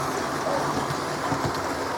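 A model train with a Class 66 locomotive rumbles steadily along its track, a continuous close whirring with faint rhythmic clicking from the wheels and no voices.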